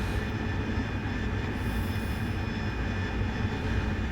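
An AV-8B Harrier jet engine in flight in DCS gives a steady, loud, unbroken roar that holds at the same level throughout.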